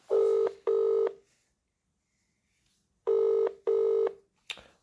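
Two pairs of electronic ringback tones with a silent gap between them, clear and close, like a mobile phone ringing on the other end of a call.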